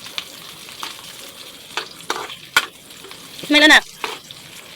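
Onion and ground meat sauté in a hot pan with a soft, steady sizzle, broken by a few stirring scrapes and one louder burst of frying; a voice speaks briefly over it.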